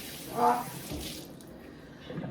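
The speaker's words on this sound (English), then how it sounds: "I'm gonna rinse this out with some hot water. Rinsing the pepper steak off." Hot tap water splashes into a kitchen sink while pepper steak is rinsed off, a short hissing flow that swells early and then settles to a softer, steady trickle.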